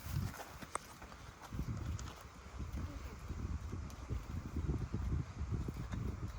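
Older horse Ziggy walks across a pasture with soft, uneven hoof thuds on the ground under wind noise, while a person talks nearby.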